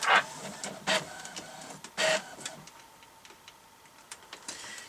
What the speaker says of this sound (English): So you hear the printer in the background